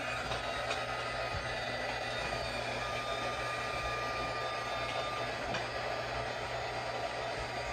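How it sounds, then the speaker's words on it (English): A heat gun roars in a steady, unbroken whoosh while it warms a flexible wood U-bend appliqué on an old mirror being upcycled, loud and close with no talk. "what I'm going to do is redo my heat gun"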